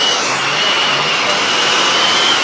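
An oxy-fuel torch flame roars loudly and evenly at close range, a dense continuous rushing hiss with a faint steady whistle running through it.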